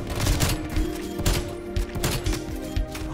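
Shots from a Swiss K31 rifle ring out in Call of Duty, sharp, loud reports repeating in a fast, uneven series against ongoing battle noise.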